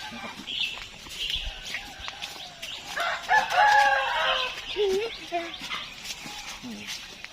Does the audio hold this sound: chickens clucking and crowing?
yes